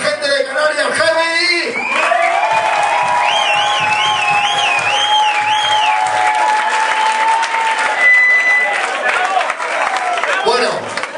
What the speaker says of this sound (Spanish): Ese aplauso para la gente de Canarias Heavy.